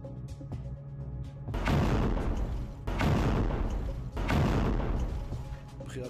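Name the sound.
explosions from Hezbollah rocket attacks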